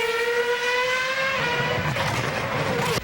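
Formula 1 race cars accelerating hard at the Australian Grand Prix, a loud sustained engine whine with rising harmonic pitch that shifts and breaks up near the end, no voices.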